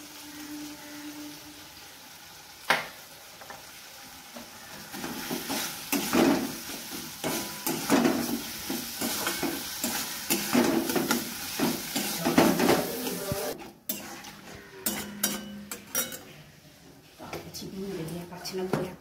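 Poppy seed paste stirred and fried in a pan during a paneer curry, with irregular scraping strokes and soft sizzling under close speech.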